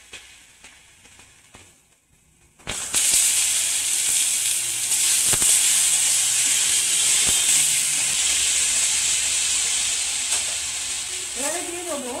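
Tomato and pineapple go into hot oil tempered with dried chilli and five-spice for a chutney, setting off a sudden loud, steady sizzle and hiss after a quieter start, continuing close and strong to the end.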